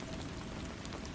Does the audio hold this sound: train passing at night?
no